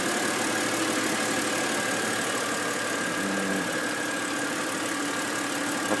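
A BMW E93's engine idles smoothly and steadily, a constant even hum with no knocks or surges, close to the car and with no voices over it.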